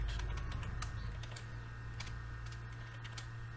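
Keys clatter in quick, irregular bursts on a computer keyboard while code is typed in Python, close and moderately loud over a steady low hum, with no voices.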